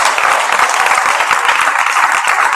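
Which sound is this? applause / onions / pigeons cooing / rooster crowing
applause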